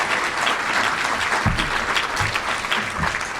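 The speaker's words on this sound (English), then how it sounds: "Please give them a round of applause for." A crowd at a regional chamber government affairs forum clapping for the sponsors, a dense, loud and steady round of applause with a few low murmurs mixed in.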